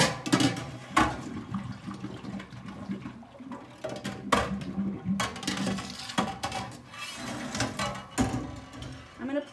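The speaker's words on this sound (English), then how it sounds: "So now I submerge these stainless steel water bottles." Stainless steel water bottles are pushed down into a sink of water while cleaning milking equipment, giving sloshing, gurgling splashes and hollow metallic knocks in irregular bursts, close by.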